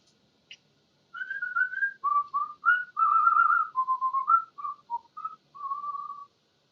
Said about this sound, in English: Light whistling.